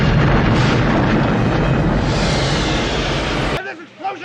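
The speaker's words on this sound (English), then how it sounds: "this explosion is a direct result of it" A large explosion from the 1984 film Ghostbusters roars as a loud, sustained rumbling blast that cuts off abruptly, followed by brief voices.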